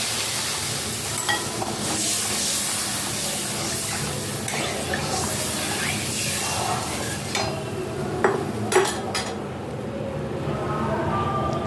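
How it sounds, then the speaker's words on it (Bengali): Water poured into hot oil with bay leaves in a pan for a Bengali cumin fish curry, producing a dense, continuous loud sizzle with scattered pops and crackles throughout. "এবার আমি জল দিয়ে দিলাম"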